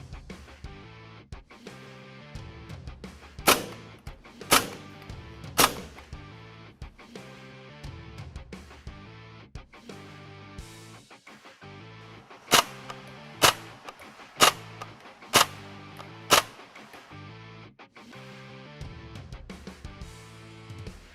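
Springfield Armory M1 Carbine airsoft blowback rifle test-firing: sharp, loud single shots in two clusters, three spaced cracks then five more at a steady pace, over a quiet background.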